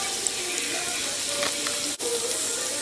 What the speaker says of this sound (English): as you can see, our carrots are starting to cook. We are on medium-low heat